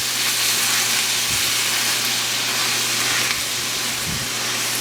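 Brown sugar stirred into bacon onion jam sizzling in a pan, a loud, steady hiss of frying throughout with a low hum underneath and occasional soft scraping from the stirring.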